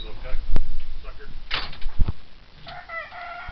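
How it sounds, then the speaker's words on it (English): On a farm, a rooster crows amid a busy close-up scene, with sharp clucks and clatter and a drawn-out crowing call toward the end, while a person talks nearby. "Now he's going to start doing his cock-a-doodle-doing."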